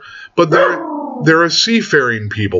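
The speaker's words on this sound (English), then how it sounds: "Pardon my dog." A pet dog barks and whines briefly in a room while a man lectures, its yelping tones mixed right in under and between his steady talking.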